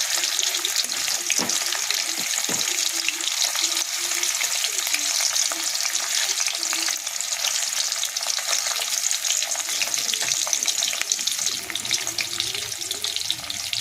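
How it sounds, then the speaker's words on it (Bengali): Paneer pieces fry in a wok for paneer masala, a loud steady sizzle with occasional stirring scrapes running throughout, no voices. "এই দেখুন পনিরগুলো আমার হালকা হালকা ভাজা হয়ে গেছে।"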